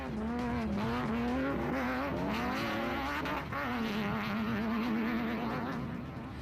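A rally car in a production vehicle class pulling away from the start line in dust, its engine revving loud and close with a sustained rising and falling whine and some tire noise, no voices.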